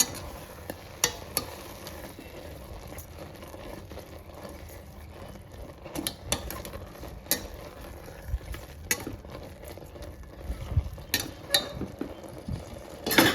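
Gongura leaves cooking for chutney in a pan give off a low, steady sizzle, broken by stirring scrapes and clinks of a utensil against the pan, with no talking.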